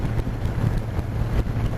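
Steady wind rushes and buffets at a rider on the Big One motorcycle cruising around 95, a loud continuous low roar with gusty fluctuations and no voice.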